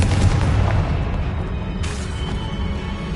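A Confringo spell blasts in the Hogwarts Legacy video game amid a spell-casting fight: a sharp, booming burst like artillery fire, close and loud, followed by a rumbling tail and a few smaller crackling pops.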